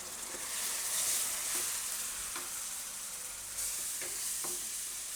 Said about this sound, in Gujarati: હવે આપણે એમાં નાખશું ટમેટાની પ્યુરી.